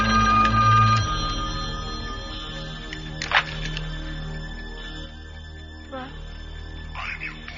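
A telephone rings inside a horror film scene, its bell tone running in bursts over a low, droning score, with brief rustling hits partway through and no clear talking.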